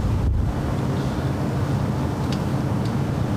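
Strong gusty wind buffeting a microphone outdoors at LAX airport during a big storm, a continuous loud low rumble with no voices.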